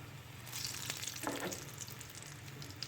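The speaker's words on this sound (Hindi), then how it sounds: "ये देखिए हमारे बॉल्स ऑलमोस्ट फ्राई हो चुके हैं" Cheddar cheese bread balls deep-fry in hot oil, giving a steady, close sizzle and crackle with a brief louder burst of bubbling partway through.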